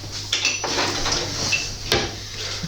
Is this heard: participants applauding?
no